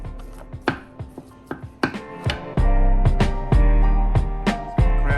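A knife chops imitation crab on a cutting board in a run of close, crisp strikes, spaced irregularly at first and then quickening, with a heavier thud underneath toward the end.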